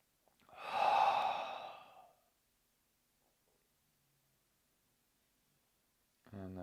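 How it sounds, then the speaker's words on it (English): A slow, deep breath during a guided meditation, drawn in and released as one broad, airy, sighing exhalation lasting about two seconds, followed by quiet, with a voice starting to speak at the very end. "Take a deep breath in, and a deep breath out."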